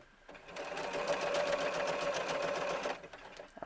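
A sewing machine runs steadily, stitching the curved seam of small doll capri pants, a continuous close whirring of rapid stitches lasting a few seconds before stopping.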